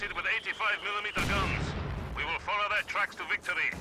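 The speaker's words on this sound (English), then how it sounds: "Heavy mortar has been recruited and it's bowling away." Heavy mortar firing in the World War II strategy game Company of Heroes 2, with booming launches and rumbling impacts under a commentator's continuous speech.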